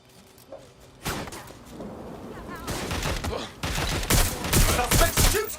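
A burst of gunfire in the video game Watch Dogs Legion: rapid overlapping shots and thuds that build from a quiet start into a loud, sustained fusillade, mixed with game noise and brief voice lines.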